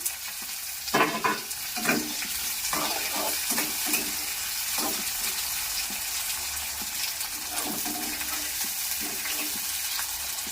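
Chopped onions and capsicum frying in a pan give a steady close sizzle broken by repeated stirring and scraping strokes, with no speech.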